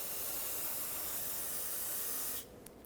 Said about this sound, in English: Clean this off with brake parts cleaner so that you know if there is a leak